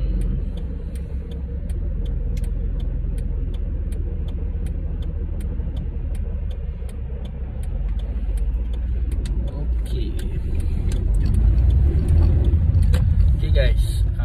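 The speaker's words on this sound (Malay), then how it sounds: "nak melintas ni pula banyak kereta pula." Steady traffic on a road in Australia, with many cars streaming past in a continuous close rumble and swelling engine noise, while a speaker talks over it.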